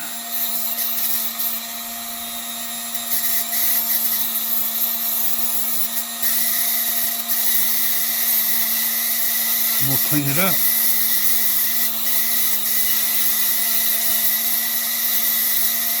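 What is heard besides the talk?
Dremel flex shaft grinding copper wire bracelet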